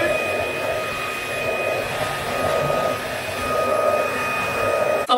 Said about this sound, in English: This vacuum is so lightweight and portable.